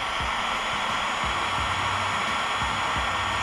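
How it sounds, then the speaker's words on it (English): Steady broadband blowing hiss of a heat gun warming a car's front lip, loud and constant throughout with no talk over it. "Got my heat gun."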